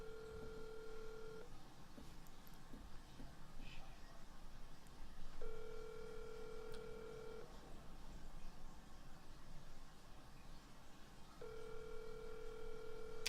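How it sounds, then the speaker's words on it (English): Outgoing phone call on a live stream, steady repeating ringback tones in even bursts over a continuous background hum, with faint voices underneath. "So I'm about to call this person right now and see who it is."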